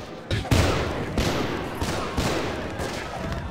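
In-game gunfire inside a prison: several loud, heavy shots spaced about a second apart, each booming and decaying into a noisy wash over a constant rumble.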